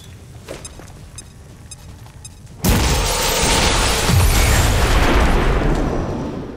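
A vehicle explodes in the strategy game XCOM 2 War of the Chosen, a sudden loud boom followed by a long roaring rumble and crackling debris that fades slowly, after quiet game ambience.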